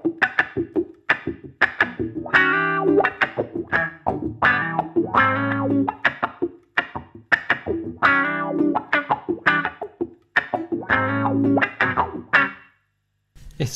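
Electric guitar run through a wah pedal in a gear demo, played as rhythmic distorted strummed chords with sweeping filtered tone, loud and steady with brief gaps, ending in silence.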